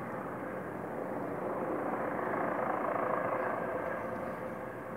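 A steady, broad engine roar from a helicopter hovering at a distance over London under low, dark clouds, rising slightly and falling back, with no voices.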